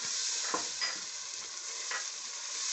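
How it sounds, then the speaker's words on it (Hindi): Spices sizzle and fry in a pan for chana pulao, a steady soft crackle with a few stirring scrapes, close and alone without voices. "इसको भूनते हैं थोड़ी देर के लिए"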